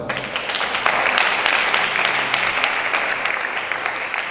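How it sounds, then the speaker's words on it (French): Sustained audience applause at a church recollection gathering, a dense, even clatter of many hands clapping close by that holds steady from start to finish with no voices over it. "On acclame pour ça."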